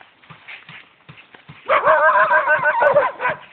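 A dog barks repeatedly, close and loud, in a run of rapid barks after some softer scattered thuds and yelps.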